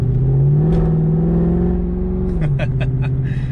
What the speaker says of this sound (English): I need to find some actual tires for this thing, because all it does is spin, spin, spin.